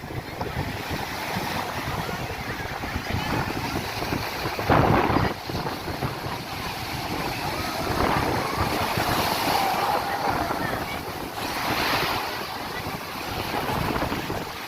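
Loud, continuous roar of large sea waves crashing and washing up the shore at Varkala Beach, with surges building and breaking every few seconds amid gusty wind.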